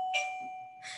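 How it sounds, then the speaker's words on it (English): A dog doorbell rings in two bright chime bursts, the first near the start and the second toward the end, with a steady tone lingering between them at moderate volume and no talk. "Oh, that's the dog doorbell."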